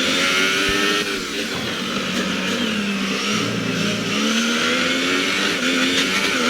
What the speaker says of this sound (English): now I'm driving a car